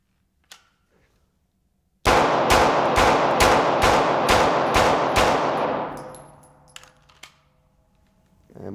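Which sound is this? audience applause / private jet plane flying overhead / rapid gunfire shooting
rapid gunfire shooting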